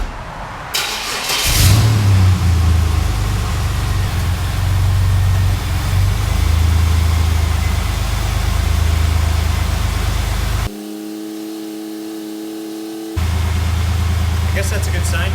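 A 2000 Chevy Blazer ZR2 engine cranks and catches with a loud rev, then settles into a steady, rumbling idle up close. The idle cuts off briefly partway through before returning.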